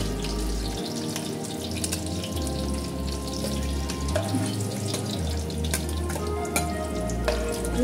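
Fish fries in mustard oil in a wok, a steady bubbling sizzle with watery crackles and occasional clinks, close by and fairly loud, no one speaking.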